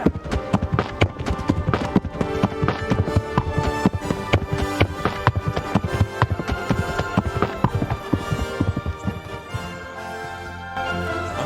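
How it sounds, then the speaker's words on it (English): Rapid, rhythmic horse hoofbeats in the video game Kingdom Come: Deliverance clip-clop steadily at close range, loud and continuous before easing off near the end. "Love that horse ASMR."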